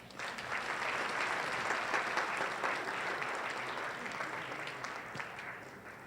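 An audience at an Asia CEO Forum applauds a leadership trainer, a full, sustained round of clapping from many people that swells early and then slowly tapers, with no voices over it.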